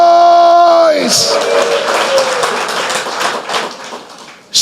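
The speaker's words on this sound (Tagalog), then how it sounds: "Malakas na palakpakan. May kasamang hiyawan." A church congregation breaks into loud applause and shouting after a brief sustained musical tone, the dense crowd noise swelling and then slowly fading over several seconds.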